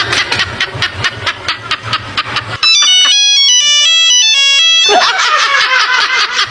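A short electronic ringtone melody plays loudly and alone after a rhythmic pulsing hum, then stops abruptly as another noise begins.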